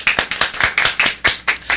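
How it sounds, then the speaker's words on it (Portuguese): Quick, rhythmic hand clapping, roughly ten crisp claps in an even beat, close and loud. "Põe palmas aqui no estúdio, né?"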